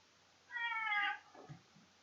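A single drawn-out cat meow, fairly close and clear, rising then trailing off into a soft murmur against a quiet background.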